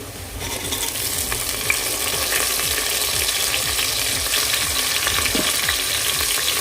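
Chopped tomato tossed into golden brown onions for green chicken biryani, frying with a loud, steady close-up sizzle and repeated rhythmic stirring scrapes throughout, no voices.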